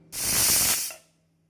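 A pressure cooker cooking mutton lets out a single loud, close burst of steam hiss lasting under a second, then it cuts off into near quiet with a faint lingering tone.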